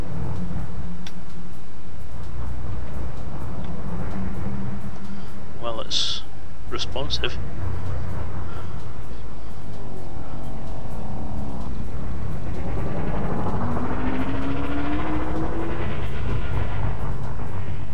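Engines of a Type 9 spaceship in Elite Dangerous rumble low and steadily as the ship lifts off, with tonal whines and rising sweeps building toward the end, under a voice.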